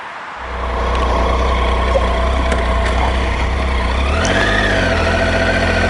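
A Tiger 800 motorcycle engine idles steadily at close range, a continuous low throbbing rumble that holds even throughout with no revving and no voices.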